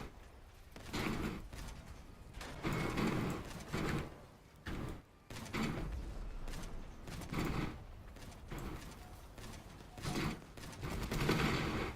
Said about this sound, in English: I like how this guy has a CK'd Wretcher and an un-CK'd Wretcher, and in doing so it makes that weird firing sound.